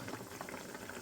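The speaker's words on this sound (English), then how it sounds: "I got my kettle water heated up again, boiling." Kettle water at a full rolling boil in a home kitchen during beef soup cooking, a dense, steady bubbling and churning that runs throughout without pause.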